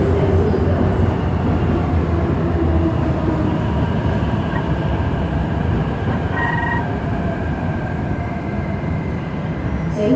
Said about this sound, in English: The train to Ermontim is arriving.